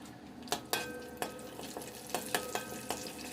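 Whole spices and a bay leaf fry in a little oil in a pan for chicken biryani, a soft, close sizzle punctuated by about eight crisp pops and spatula taps at irregular intervals, with no talking.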